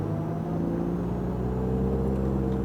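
A Ferrari F430 engine drones loudly from inside the moving car, with a steady tonal hum and whine that rises slightly in pitch as it holds a smooth cruise, with no talk over it.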